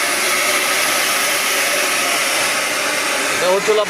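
A DCK brand rod or tile cutting machine with copper-wound motor runs at a loud, steady high-pitched whine for the whole stretch, with a faint voice just audible near the end.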